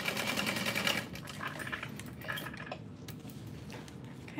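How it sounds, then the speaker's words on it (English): An industrial walking foot sewing machine stitches a backpack in a fast, dense mechanical chatter that eases off after about a second, followed by quieter handling clicks and ticks nearby. "this is an industrial walking foot machine"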